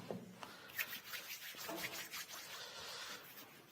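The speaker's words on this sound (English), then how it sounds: "You must make sure that you rub the sanitizer thoroughly to your hand, around the thumb" Hands rub hand sanitizer together up close, producing soft, continuous swishing and scratchy friction sounds with brief louder strokes.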